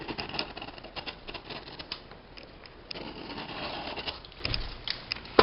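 A knife cuts away an excess piece of flooring underlayment at a doorway, producing a dense run of small rapid clicking and scraping ticks with irregular louder bursts, close up and uninterrupted by talk.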